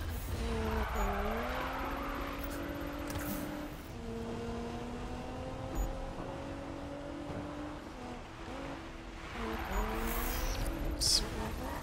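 In the Need for Speed video game, a car drifts during a drift challenge, with sustained tire squeal and a revving engine sliding up and down in pitch over nearly twelve seconds, moderately loud and continuous.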